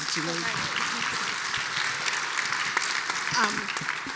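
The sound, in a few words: audience applause for a panel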